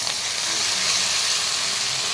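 Tomatoes dropped into hot oil for a tomato gravy, a bright, even hiss of sizzling that holds steady and close throughout.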